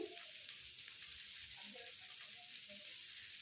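Chopped potatoes and vegetables frying in a pan, a soft steady sizzle with faint scattered stirring clicks, quiet and close.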